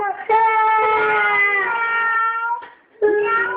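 A human voice imitates a cat, giving two drawn-out meows, the first long and wavering, the second short after a brief pause.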